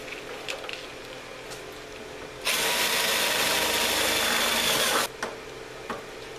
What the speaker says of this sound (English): I'm first going to drill an 1/8 inch hole.